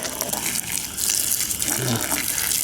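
Water from a garden hose pours steadily onto a banana pup being relocated, a continuous close gushing splash that runs through the whole moment.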